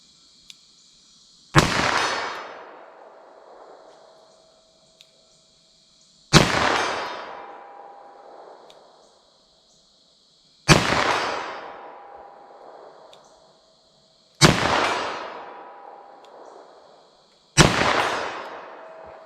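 Five single gunshots from a .38 Special +P handgun aimed at a target 75 yards off, each a sharp loud crack with a ringing decay, spaced several seconds apart in an otherwise quiet outdoor range.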